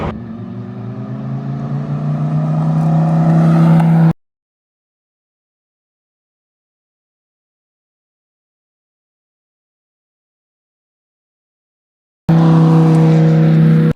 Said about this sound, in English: It's coming towards you saying hello,